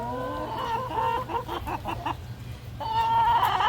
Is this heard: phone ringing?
no